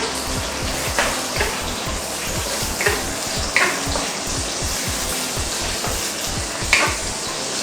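Dry chili sizzling and crackling steadily in hot oil in a wok for kung pao prawns, with occasional clinks and stirring noises over the continuous frying hiss.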